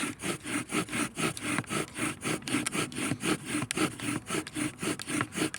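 A bow drill spindle grinds against a white pine board for a friction fire, making loud, close, rhythmic back-and-forth rasping strokes at an even, steady pace with no talk.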